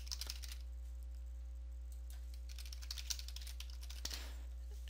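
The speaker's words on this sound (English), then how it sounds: "I'm going to type in troubleshooting." Quiet typing on a computer keyboard, a handful of faint, scattered key clicks over a steady background hum.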